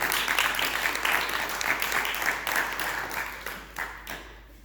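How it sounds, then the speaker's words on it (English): Applause from an audience at a community launch event, moderately loud and somewhat uneven, swelling and thinning in waves before tapering off at the end. "you need to give yourselves a round of applause"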